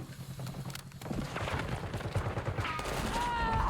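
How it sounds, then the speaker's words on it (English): Gunfire in Call of Duty Warzone from a player on the roof directly above, a burst of shots ringing out over steady in-game ambience and movement noise. "So that guy just got shot by someone that's directly above me."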